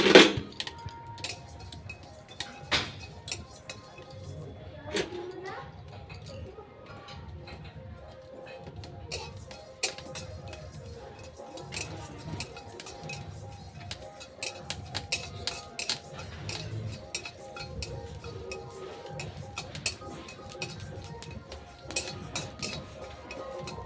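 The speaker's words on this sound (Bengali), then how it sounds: "গোটা জিরে আর ধনে আমি একটু শুকনো খোলায় ভেজে নেব।" Whole cumin and coriander seeds dry-roast in a hot kadai, making faint, irregular ticks and pops mixed with soft metallic clinks of stirring that continue steadily at low volume.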